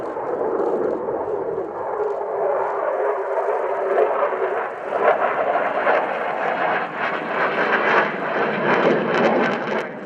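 A Belgian F-16 fighter jet flying display manoeuvres at the RIAT airshow at Fairford, a loud sustained jet engine roar that swells and shifts in pitch as it passes, no talking.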